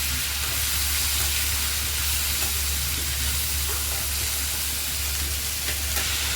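Ivy gourd pieces fry with turmeric and salt, giving a steady, close sizzle with a low constant hum beneath it and no voice.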